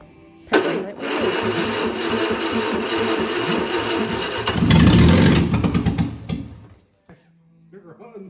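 A 1967 Sunbeam Alpine engine, fuelled through the carburettor, cranks and catches, then runs roughly with loud chugging, surges briefly louder, and cuts out; a voice speaks afterward.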